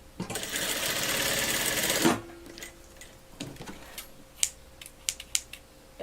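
A sewing machine stitches a blouse sleeve seam in one steady, loud run of about two seconds, then stops, followed by quieter handling clicks and rustles of fabric.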